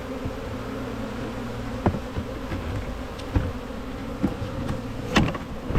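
A honey bee swarm hums as a dense, steady buzz close by, with a few louder individual bees zipping past the microphone over a continuous drone.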